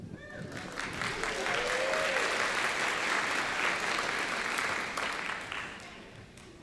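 A theatre audience claps together before a show, dense applause building and holding steady, then thinning toward the end, with faint voices mixed in.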